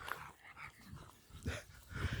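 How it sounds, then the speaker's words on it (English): A dog barks and whimpers in short, faint bursts at a distance, uneven and intermittent, with no speech over it. "that dog's thrown me off"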